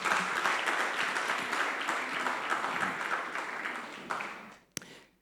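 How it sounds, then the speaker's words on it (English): Audience applause at a community dialogue event fills the room in a sustained, dense burst of clapping for about four seconds, then fades, with a single sharp clap near the end. "A round of applause"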